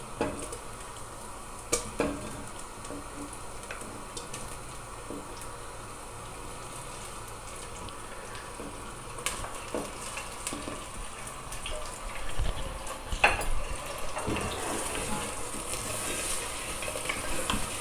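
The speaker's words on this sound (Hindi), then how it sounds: "ये देखें, प्याज हल्का गुलाबी हो गया है। अब हम इसमें गोश्त डाल देंगे।" Meat dropped into a pot of onions fried light pink, giving a steady close sizzle with a few pot clatters and stirring noises, swelling louder toward the end.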